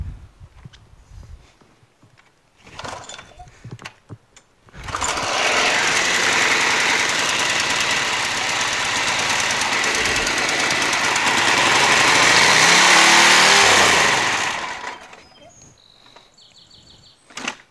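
A small engine on a Craftsman lawn tractor starts up and runs loudly for about ten seconds at a steady, buzzing pitch, then cuts off, with quiet handling noises before and after.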